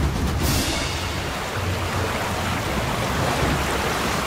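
Rushing river water in the video game Ryse: Son of Rome, a steady, dense broadband roar that stays loud and even throughout, with no speech over it.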